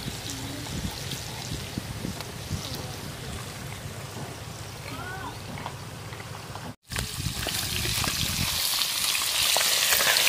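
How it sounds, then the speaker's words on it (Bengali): A river pangas fish frying in oil, with a constant dense sizzle and bubbling throughout that briefly cuts out and then returns louder and brighter, with no talking. "মাছ ভাজা আমার কমপ্লিট, তুলে নেবো আমি সুন্দর করে।"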